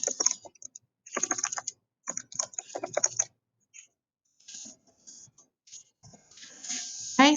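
Bursts of typing on a computer keyboard, close and crisp, come in several short runs of rapid key clicks separated by pauses, with faint scattered taps in between and a brief voice at the end.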